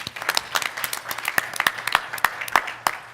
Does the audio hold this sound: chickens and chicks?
no